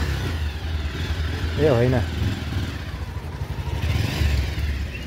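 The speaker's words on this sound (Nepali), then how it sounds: "बाइक आइपुग्यो त्यहाँ" A motorbike arrives in a village, its low engine rumble running steadily through the clip while a person briefly speaks over it.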